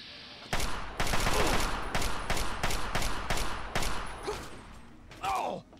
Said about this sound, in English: Ooh, I'm getting shot.